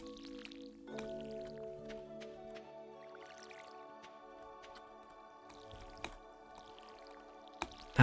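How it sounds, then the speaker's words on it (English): Potato and cauliflower crops being watered in the video game Stardew Valley: a few soft splashy drips over a calm, sustained music bed. "Start off by watering the potatoes. And the cauliflower seeds."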